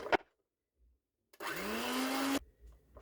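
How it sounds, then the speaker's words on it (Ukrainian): An electric mixer whisks eggs with sugar for apple cupcakes, starting with a brief blip, then after a pause a steady, loud whirring burst lasting about a second with its pitch rising slightly before it cuts off. "І оці яйця треба збити з цукром."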